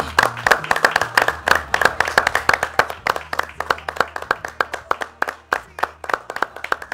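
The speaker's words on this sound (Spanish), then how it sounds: "te invito en este momento a que nos unamos a 30 segundos de aplauso en memoria de nuestra querida hermana Evelyn Vázquez" A church congregation claps together in memory of a deceased sister, a loud, close, rhythmic run of sharp hand claps, many hands falling into a fairly regular beat that continues throughout.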